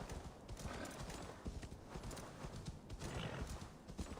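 Horse hooves clip-clop steadily on the ground in the PC game Assassin's Creed Valhalla, with a neigh breaking through the continuous galloping rhythm; no one speaks.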